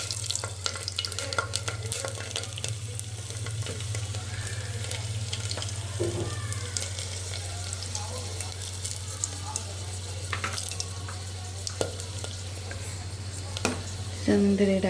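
Garlic cloves frying in hot oil with asafoetida, a steady close sizzle with stirring scrapes and scattered clicks over a constant low hum.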